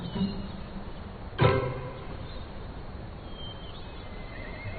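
A horse lets out a single sharp, shaking whinny, close and prominent, then the scene settles into a quiet ambient background.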